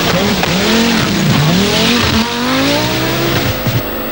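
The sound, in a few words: rally car engine at rev limiter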